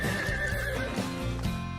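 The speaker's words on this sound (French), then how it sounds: "Et si nous allions voir ce cheval d'un peu plus près?" Cartoon horse neighing, a single clear whinny with a wavering pitch, followed by a short snort and faint clip-clop of hooves, close and loud with no talk.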